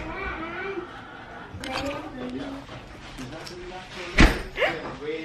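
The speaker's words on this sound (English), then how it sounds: "What the heck are you slamming things for?" One sharp door slam at home rings out suddenly over low household chatter and children's voices, followed by a smaller knock.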